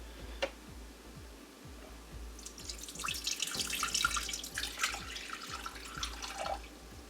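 Water streams from a tap into a bowl on a kitchen scale for sourdough bread, a rising splash over a steady ticking, with no voices.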